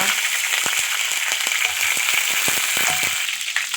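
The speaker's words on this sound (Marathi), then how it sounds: "तेल गरम व्हायला ठेवलं आहे कढईमध्ये आणि जिरे टाकले कढीपत्ता टाकला" Cumin seeds and curry leaves temper in hot oil in a kadai, a loud close sizzle with a dense run of sharp crackles and pops throughout.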